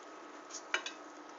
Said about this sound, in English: I'm making sure every noodle gets coated and that the garlic is being mixed throughout the pot, the pan